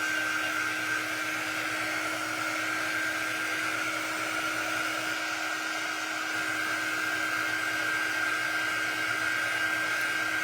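Hair dryer blowing on a craft project, a steady, loud whirring hum with a constant whine that runs unbroken and close throughout, with no talk.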